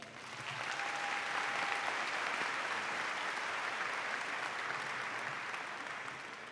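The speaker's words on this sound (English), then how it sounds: "Please give them a round of applause." A crowd claps steadily in a large room at a high school graduation, a dense wash of applause that holds evenly for several seconds.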